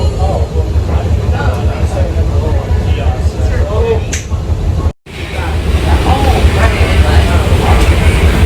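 Steady rumbling of a train in motion, loud and continuous from inside the car, with a brief cut partway through and faint chatter underneath.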